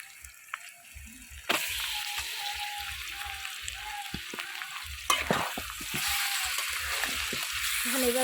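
Fish going into hot oil with lightly fried onions, a sudden loud sizzle that keeps crackling steadily, with stirring clatter and a second burst of frying partway through, close up.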